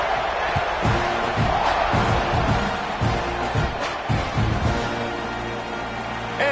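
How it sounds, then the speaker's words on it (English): College football stadium crowd buzzes loudly after a touchdown scored on a 1-yard plunge, a dense roar of voices with scattered thuds and shouts rising and falling throughout before the kickoff. "this crowd is buzzing after that last score."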